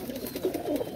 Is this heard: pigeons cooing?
yes